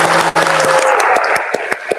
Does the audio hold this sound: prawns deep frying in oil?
no